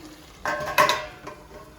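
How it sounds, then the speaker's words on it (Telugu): A steel plate set down over a chicken handi gives two close metallic clinks and a brief rattle over quiet kitchen background, with no talk. "ప్లేట్ పెట్టేసుకుందామండి."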